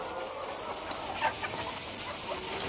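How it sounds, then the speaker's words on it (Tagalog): Chickens cluck faintly on a poultry farm in Valaga, Mabini, Bohol, with scattered calls under a steady wash of background noise. "Ang daming manok, guys."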